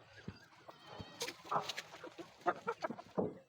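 A Giriraja hen clucks and squawks in short, agitated bursts as it is chased and caught, with flapping and scuffling close by and loud and broken, while goat- or sheep-like bleats and faint voices mix in.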